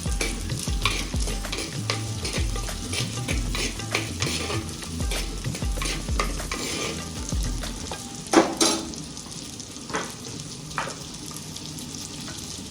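Thinly sliced onions sizzle and fry steadily in a pan, with repeated scraping stirs and a few sharper clanks of a utensil partway through; no voices.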